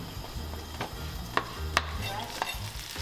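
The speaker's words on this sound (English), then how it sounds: "He stirs it into the caponata along with some tomato passata" Caponata with tomato passata being stirred in a pan, a spoon scraping and knocking in a few sharp clicks over a low, steady cooking rumble, close and fairly quiet, with no voices.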